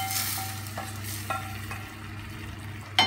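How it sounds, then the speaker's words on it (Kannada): Hot tempering with curry leaves tipped into rasam, giving a low steady sizzle with a few light clinks from the pan and a brief louder knock at the end, fairly quiet with no voices. "ಒಗ್ಗರಣೆನ ರಸಮಿಗೆ ಹಾಕ್ತಾ ಇದ್ದೀನಿ."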